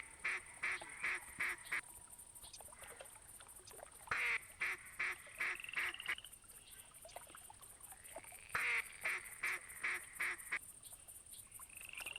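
A flock of ducks passing overhead in theHunter Classic, giving repeated rhythmic quacks in quick bursts, fairly faint and distant against a steady high background hiss.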